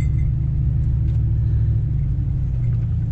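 A car drives through a mountain snowstorm in Cloudcroft, New Mexico, just shifted into drive, giving a steady low engine and road rumble that stays even and close throughout with no voices.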